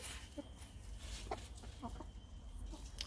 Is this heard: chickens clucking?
yes